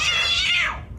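A cat meows loudly and alone for about a second, a single drawn-out, high, wavering cry that fades at the end.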